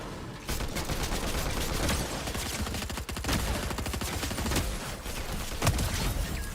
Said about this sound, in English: Shotgun was shooting a little slow.